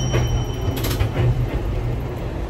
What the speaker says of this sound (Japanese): 路面電車に乗ってね、今柳川駅へ向かっております。